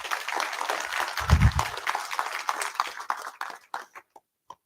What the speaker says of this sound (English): let's give them the huge round of applause